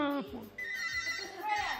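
A telephone rings with another incoming call on a live French radio-TV show studio, its short electronic trill heard under overlapping talk from the host.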